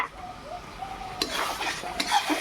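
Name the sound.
sour yogurt added to mutton in pot, stirring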